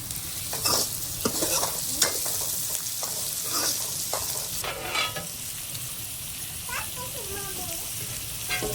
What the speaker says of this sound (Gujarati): પેલા મીઠાને મિક્સ તો કરી લે.